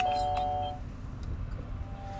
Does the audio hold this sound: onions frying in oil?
no